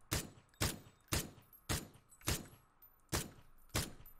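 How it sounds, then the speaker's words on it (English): Gunfire in the battle royale game PUBG: eight evenly spaced sharp rifle shots, about half a second apart, loud and close with short decaying tails, no voices. "His teammate started shooting at me right now, though."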